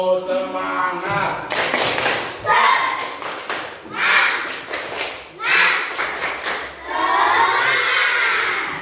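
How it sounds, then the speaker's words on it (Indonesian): Primary school pupils in an elementary classroom do a rhythmic clapping chant, bursts of group claps alternating with loud children's voices chanting and shouting together, near and energetic throughout. "Agar lebih semangat, yuk kita kasih tepuk"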